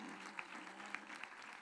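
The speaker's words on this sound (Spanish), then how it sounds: "un aplauso para ella" Audience at a patronal festival proclamation in Spain giving a faint, distant round of applause, with a few sharper claps standing out from the soft patter.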